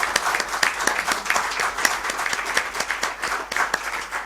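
A seated audience at a book presentation applauds a film director, a moderate crowd clapping with distinct individual claps audible in a quick, uneven rhythm that keeps going at a fairly constant level.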